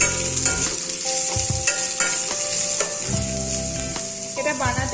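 Onions frying in a pan until reddish brown for dim polau, with a close sizzle under a loud tonal background of music that largely covers the sound.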